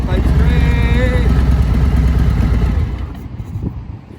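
A heavy cruiser motorcycle rolls to a stop, its engine rumbling loud and close, then fading as it slows to a quieter idle.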